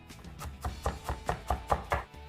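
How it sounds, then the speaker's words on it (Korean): A knife mincing vegetable scraps on a cutting board makes quick, steady chopping knocks, about ten close, crisp taps in even rhythm, with no talking. "이거는 다지는 거니까 이렇게 짜투리를 활용하셔도 좋아요."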